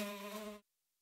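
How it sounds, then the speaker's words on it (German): A fly buzzes loudly and steadily right at the ear inside a sound research lab, a bright droning hum that cuts off abruptly into silence after about half a second. "Wie kommt bitte die Fliege ins Labor?"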